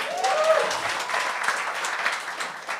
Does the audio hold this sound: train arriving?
no